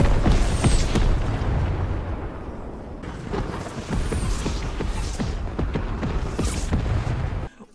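Rocket airstrike explosions in Fortnite, a dense run of heavy booming blasts and crackling impacts that rumble loudly almost without pause, with a short break midway and no talk.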